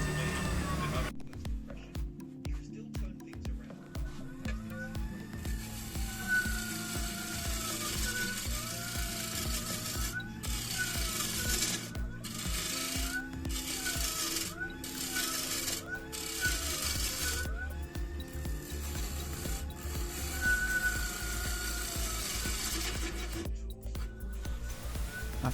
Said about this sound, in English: I've kept the sound up here so you can hear the lathe slowing down as I put pressure on a deeper cut